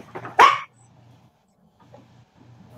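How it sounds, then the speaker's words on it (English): A dog gives a single sharp bark near the start during a live online sale, followed by faint low rumbling and quiet background noise. "He's going to bark at everything that goes by."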